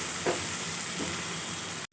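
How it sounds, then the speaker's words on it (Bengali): Ginger, onion, garlic and tomato spice paste frying in a pan for a fish curry gives a steady, close sizzling hiss with soft stirring scrapes, with no voices. "দিয়ে ভালো করে মশলাটা কষিয়ে নেব।"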